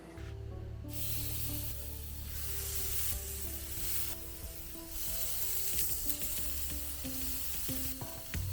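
Ribeye skewers sizzle on a grill: a continuous, close, even crackling hiss that swells and eases slightly throughout, over a faint steady tonal background.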